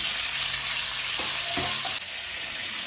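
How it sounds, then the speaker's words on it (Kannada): Onion, ginger and garlic fry in hot oil for a dosa's tomato chutney, a steady close sizzle and crackle with a few soft stirring scrapes and no voices. "ಇದನ್ನು ಹುರ್ಕೊಳ್ಳೋಣ, ಎಣ್ಣೆಗೆ ಚೆನ್ನಾಗಿ ಹುರ್ಕೊಳ್ಳೋಣ"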